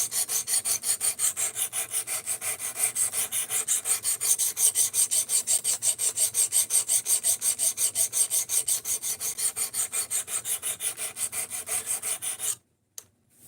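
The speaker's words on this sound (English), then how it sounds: "This is just the fixed angle sharpening system that I have." Knife being sharpened on a fixed angle sharpening system, the stone stroked back and forth in a fast, even rhythm; close, rasping scrapes repeating steadily, then stopping abruptly near the end.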